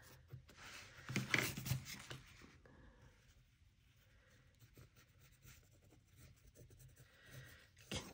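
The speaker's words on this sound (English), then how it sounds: "So I'm going to go back with my black pencil" Black pencil drawing on regular paper in an art journal, close scratchy strokes that swell into a busy burst early on, then continue as lighter intermittent scribbling, no voice.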